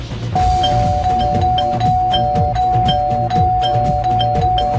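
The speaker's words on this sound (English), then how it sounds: "Corey Zanders, quit trancing on the doorbell." A doorbell chimes repeatedly in a steady looping pattern, bright and loud, over a continuous low hum.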